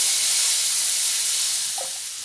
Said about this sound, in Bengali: ওই তেলে দিয়ে দেব কেটে রাখা আলুগুলো